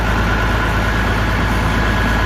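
A farm tractor's engine idles in a steady, loud, low rumble with a continuous drone and no change in pitch, heard up close and alone without any voices.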